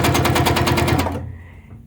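A sewing machine does free-motion quilting on a looping vine pattern, its needle hammering in a rapid, even burst of stitches close by before cutting off abruptly after about a second.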